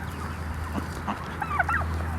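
A small hen on a farm clucking softly a few times, close by over a low steady background hum, with no talking.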